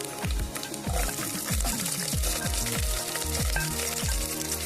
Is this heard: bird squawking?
no